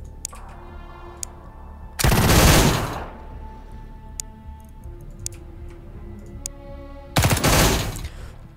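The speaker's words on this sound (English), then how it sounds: "It's suppressing fire, so we're just going for area targets, not points." Suppressing fire in the Xenonauts 2 video game: two loud bursts of rapid shots a few seconds apart, with faint ticking and clicking game sounds between them.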